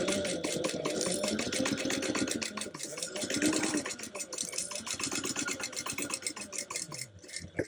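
A sewing machine bastes a zipper placket at a quarter-inch seam allowance, a continuous close mechanical whir with a rapid stitching rhythm that dips briefly midway.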